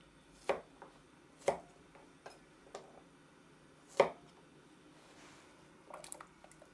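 Kitchen knife slicing garlic cloves in half on a cutting board for beef bone soup, a handful of separate crisp chops spaced irregularly, close and fairly quiet with no talking.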